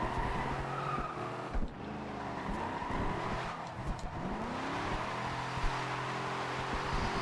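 A Jeep Wagoneer drift build slides sideways in Forza Horizon 2, its engine droning steadily in third gear while the tires squeal and skid continuously, pitch bending up and down through the drift.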